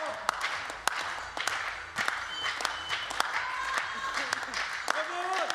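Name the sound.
crowd clapping along at a shooting competition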